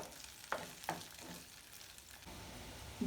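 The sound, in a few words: onions frying in a pan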